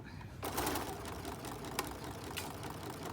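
A sewing machine stitching fabric, its rapid mechanical whir starting abruptly after a brief pause and running steadily up close.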